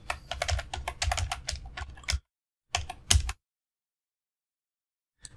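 Computer keyboard typing in two quick bursts, a steady run of close, crisp keystrokes for about two seconds, then a brief cluster after a pause, with silence between and no talking.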